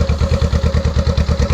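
Honda Rebel 500 motorcycle with a Radiant Cycles Shorty GP exhaust and the baffle removed idles close up, a loud, steady, deep pulsing thump with a quick even beat.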